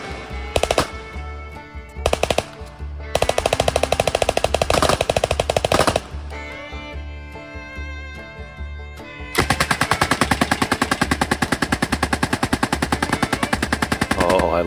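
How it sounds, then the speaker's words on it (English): Sustained bursts of rapid, loud gunfire from an M14 rifle and other automatic weapons, with dense rattling volleys broken by short pauses and a long continuous stream toward the end. "So centered up here is an M14, and you'll see that the recoil impulse is so stout"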